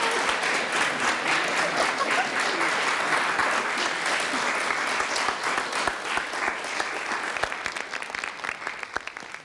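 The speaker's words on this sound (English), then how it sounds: "can we have a round of applause, please, for my lovely young pianist, the lovely and talented Beth Jordash" Audience applause for a young pianist at a carol gathering, a dense steady round of many hands clapping throughout, fading slightly toward the end.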